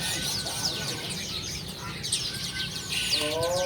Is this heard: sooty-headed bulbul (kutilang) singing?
yes